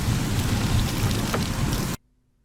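Water dumped from a makeshift overhead contraption onto a man's head to fake rain, a loud, dense splashing downpour that cuts off abruptly after about two seconds.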